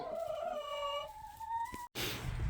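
Hens cluck and warble close by, a steady murmur of fowl calls, broken by a brief silence and then a burst of noisy rustling.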